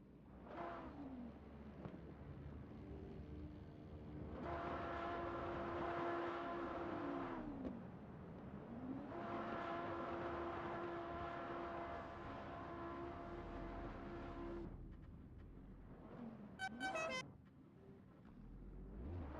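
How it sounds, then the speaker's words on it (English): GT race cars on a formation lap at Jeddah, engines droning steadily in long sustained passes with rising and falling pitch, and a short, sharp horn-like blast near the end, heard from a distance. "We hear some cars with their horns and their engines as we now start what appears to be our formation lap here in Jeddah."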